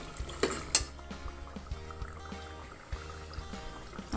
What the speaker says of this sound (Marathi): आता यामध्ये मी पाणी घालणार आहे।